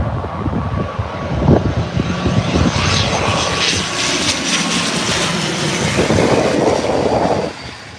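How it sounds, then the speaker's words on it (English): A fixed-wing airliner comes in to land at Birmingham airport, its engines a loud, steady roar that holds close and broad throughout before easing off at the very end. "First plane of the day."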